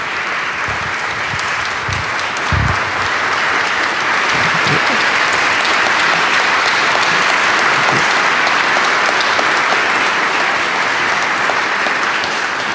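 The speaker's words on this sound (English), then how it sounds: "another round of applause for our speakers" Audience at a lecture on the Cyrus Cylinder applauding its speakers, loud continuous clapping close to the microphone that stays steady throughout, with a few low thumps early on.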